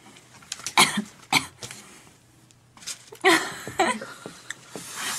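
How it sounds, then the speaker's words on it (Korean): Person coughing close to the microphone in a radio studio, several short dry coughs and throat-clearing bursts spread unevenly across a few seconds, with quiet gaps between. "너무 가까이서 기침하는데"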